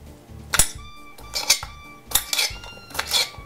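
Fruit slices are cut with a ridged knife on a board during Passover cooking, producing four sharp chopping knocks about a second apart, each with a brief metallic clink and ring.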